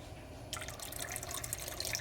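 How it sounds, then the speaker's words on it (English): White vinegar trickles into a saucepan of salted water on a stovetop, a soft steady pouring splash that starts abruptly and continues close and fairly quiet. "add some white vinegar to it"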